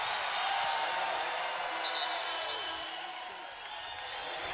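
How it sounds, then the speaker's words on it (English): A women's college basketball arena crowd roars in a loud, sustained wash of cheering that rises and dips slightly, with no clear voices picked out on top. "Listen to this crowd."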